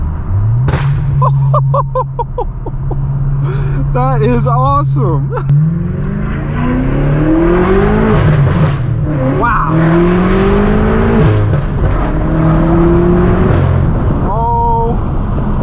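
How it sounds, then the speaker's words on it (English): Loud exhaust of an 800-horsepower manual BMW M6 Gran Coupe, revving up and down repeatedly with crackling pops on throttle lift, heard close and dominant while people exclaim over it. "with those pops, when you let off the throttle, you give it some gas, it really just sounds like an animal"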